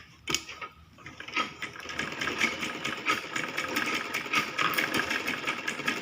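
A sewing machine stitching a kids' lehenga choli runs in a steady, fast mechanical whir with light clattering, fairly faint, starting after a brief pause, with no voices.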